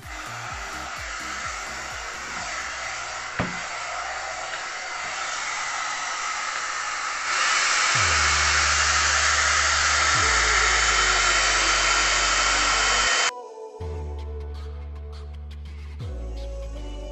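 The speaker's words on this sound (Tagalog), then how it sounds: "na blow dry na natin ang ating buhok" Hair dryer blow drying medium-length hair, a steady loud whooshing hum that grows stronger partway through, then cuts to a lower setting near the end.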